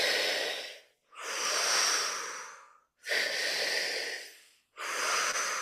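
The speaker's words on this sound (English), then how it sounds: "we breathe into the belly through the mouth first" Slow, deep breaths through the mouth, long airy inhales and exhales in a steady rhythm, close and loud, with brief silent pauses between them.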